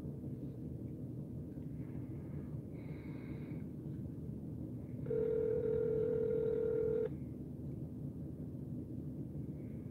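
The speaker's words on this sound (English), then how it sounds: "Let me try giving her a call." A phone call being placed shows a steady ringback-style tone of about two seconds, clear and close over a constant low background hum, after some faint higher tones.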